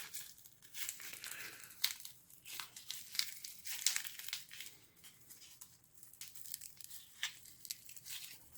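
The plastic packet of a cherry drink mix from a Russian mountain ration gets torn and crinkled close up, a run of sharp rips and crackles in uneven bursts, with no talking.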